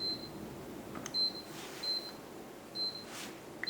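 A eufy security system switching into home mode gives a series of short, high electronic beeps, four clear chirps spaced at uneven intervals against faint background noise, with no talking.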